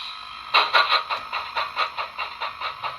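An HO-scale D&RGW 2-8-8-2 steam locomotive model with a SoundTraxx Tsunami2 sound decoder chuffs steadily as it moves forward, a regular rhythm of hissy exhaust beats at close range.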